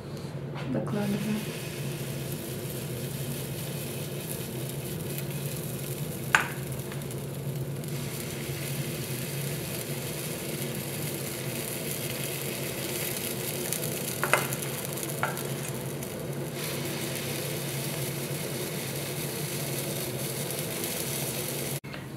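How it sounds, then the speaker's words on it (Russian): Steady sizzling of pea-flour pancake batter frying in a hot greased pan, a soft continuous crackle with a few light clicks of a utensil, no voices. "Жарить примерно по минут 4, пока не появятся пузырьки."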